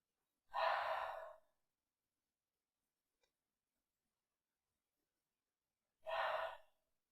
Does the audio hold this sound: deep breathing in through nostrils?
yes